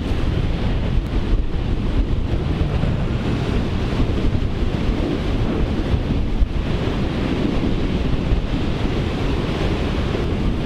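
Strong wind buffeting the microphone of a vehicle travelling at nearly 60 in Greece, a constant low roar, loud and steady with no voices.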